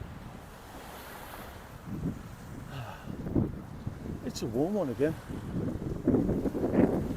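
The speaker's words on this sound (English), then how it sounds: "but it is quite windy" Gusty wind buffets the microphone with low rumbling noise while a person talks over it, surf faintly in the background at Jomtien Beach.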